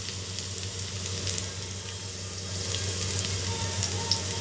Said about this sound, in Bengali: এরপর আমি এর মধ্যে দিয়ে দিচ্ছি কুচানো রসুন